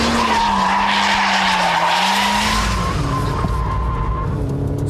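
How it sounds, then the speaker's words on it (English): Ford Puma skidding through a Scandinavian flick drift at around 65 to 70 mph, a loud continuous tire squeal over steady engine roar that shifts pitch midway as the car swings the other way. "you need to resort to the Scandinavian flick, followed by a bit of lift-off oversteer"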